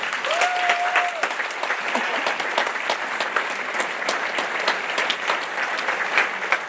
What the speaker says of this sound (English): Can we continue clapping for him until he sits down?